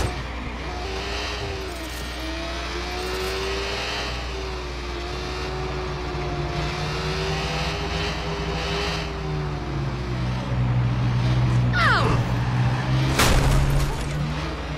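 A car in the Watch Dogs video game drives and revs steadily up close, its engine drone sustained throughout, with a sharp burst of impacts or gunfire near the end.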